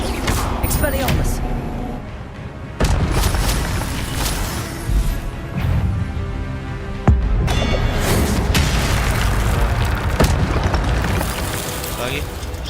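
Spell effects crackle and boom during combat in the game Hogwarts Legacy, with loud blasts over a dense, continuous wash of battle noise. A voice is present in the mix.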